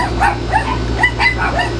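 Several pet dogs at home bark and yip in quick, overlapping bursts close to the microphone, loud and steady for the whole moment with no talking.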